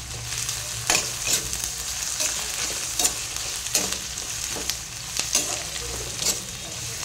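Green chillies frying with spinach in a pan, a steady close sizzle broken by repeated scraping stirs of a spoon against the pan, with no voices.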